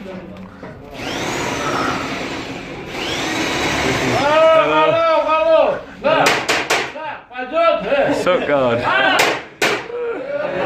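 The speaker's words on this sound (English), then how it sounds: "They got drills and hammers" Garage mechanics fit a sump guard to a rally car, loud drilling whines and hammer blows ringing out continuously, with a person talking over the racket.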